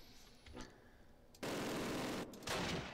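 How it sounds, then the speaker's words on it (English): Machine gun fire in the Close Combat video game, in an Arnhem battle: a quiet stretch, then two loud, sustained bursts of rapid gunfire separated by a brief lull. "they're turning fire now."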